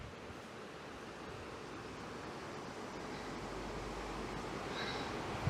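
Steady broadband rush of water pouring over a weir on the River Derwent near Sutton upon Derwent, England, continuous and even, heard from a short distance outdoors with faint wind on the microphone.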